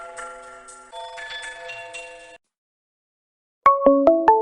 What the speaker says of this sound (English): That phone just scared me.